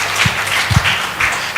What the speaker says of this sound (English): Brenda deserves an extra round of applause